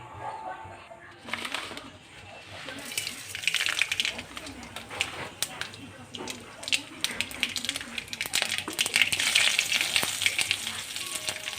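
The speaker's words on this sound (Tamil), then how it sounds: "எண்ணெய் ஊற்றி கடுகு போட்டுக்கணும்." Mustard seeds sizzle and crackle in hot oil in a home kitchen, the start of a pumpkin and chana dal poriyal, with a steady frying hiss, scattered pops growing busier over time, and faint bird cooing in the background.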